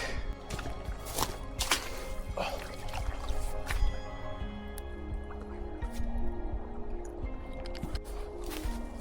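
Water drips and trickles off an axe just lifted out after soaking in water, with close, irregular droplets and small splashes alongside faint handling and shuffling sounds outdoors.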